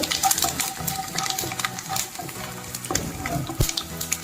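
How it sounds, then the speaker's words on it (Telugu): Cumin seeds sizzle and crackle in hot oil for Andhra-style tomato majjiga pulusu, a dense continuous frying hiss with scattered sharp pops, close and fairly loud, with no talking. "తర్వాత ఒక స్పూన్ జీలకర్ర ఇది దోరగా వేగాక"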